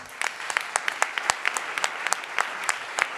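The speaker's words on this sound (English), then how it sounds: "A big round of applause, please." A small audience applauds to welcome a speaker on stage at a conference, sparse distinct hand claps in an uneven patter over a soft room background, fairly close and moderately loud.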